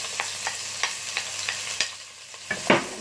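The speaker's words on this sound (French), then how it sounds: "Donc là je fais revenir d'abord ça vite fait." Thinly sliced white onions and carrot rounds sautéed in a pan, with a steady sizzle broken by repeated scraping stirs at a quick, irregular pace, close and alone with no talk.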